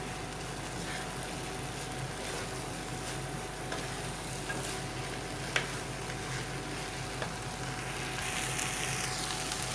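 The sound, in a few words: stirring tomato rice with masala in a pan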